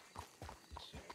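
Horse hooves clip-clop at an unhurried walk in the Red Dead RP video game, about four evenly spaced hoof falls, fairly close and clear with no one talking.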